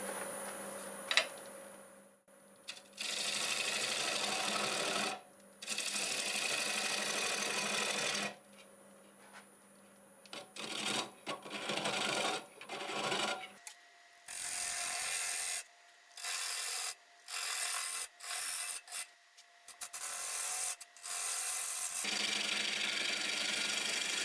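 Walnut spinning on a wood lathe as a tool cleans up the bottom and cuts a tenon, giving bursts of loud scraping and rasping cuts broken by short pauses, close up and with no talk.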